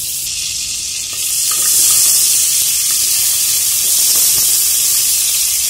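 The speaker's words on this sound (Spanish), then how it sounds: "Y aquí voy a poner a freír lo que es la cebolla." Onion frying in butter or margarine for an escabeche, a steady broadband sizzle that swells louder after the first second and holds, with faint pops and crackles and no talking.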